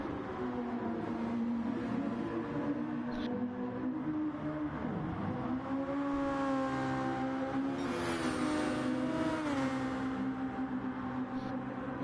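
A Super Formula SF19 race car engine in a racing video game at Autopolis drones steadily at low revs while short shifting, its pitch sagging and climbing gently through gear changes and never reaching a high scream.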